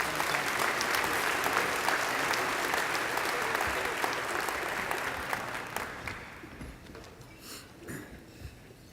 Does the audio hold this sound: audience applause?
yes